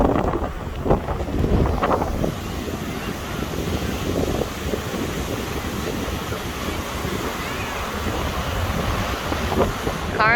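Strong wind at a park on a blustery day buffets the microphone with continuous roaring gusts, steady and close throughout, with no speech.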